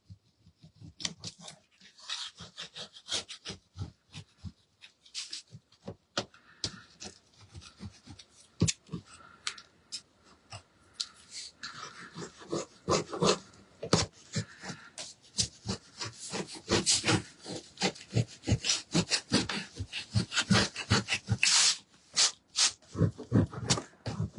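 Rhythmic scraping and rasping strokes of sanding paint off a wooden birdcage cutout, irregular at first, then faster and louder, steady back-and-forth rubbing close by with no talking.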